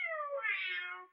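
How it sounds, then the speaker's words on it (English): A single clear cat meow, drawn out and rising then fading, close and alone. "Suppose you had 3 cats. Meow, meow."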